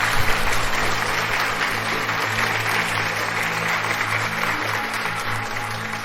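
Sustained applause from a crowd, dense and steady for several seconds, loud and near, with a low hum underneath and no speech over it.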